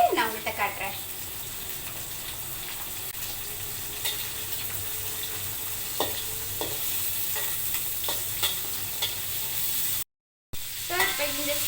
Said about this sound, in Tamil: ப்ரானை வந்து பட்டரில் ஃப்ரை பண்ணிவிட்டு நான் உங்கள்கிட்ட காட்டுறேன்.